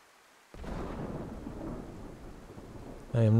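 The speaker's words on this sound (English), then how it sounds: "I want to go there in the pouring rain, though." Pouring rain with rolling thunder in the survival video game DayZ bursts in after a half second of quiet, then holds as a loud, steady roar until a brief tonal sound cuts in at the very end.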